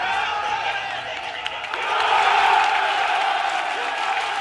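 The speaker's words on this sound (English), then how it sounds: "I think we are going to hear a happy crowd to see that" Crowd at a live esports venue in France cheering and applauding during a winning moment of a TrackMania world cup semi-final, a dense steady roar that swells louder partway through, heard without clear speech.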